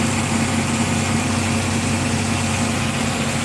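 Tractor engine running steadily while drilling wheat at about 5.5 mph in the field, a continuous loud, even drone with a strong low hum and no talk over it.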